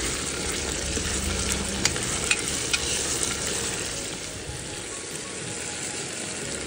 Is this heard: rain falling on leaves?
no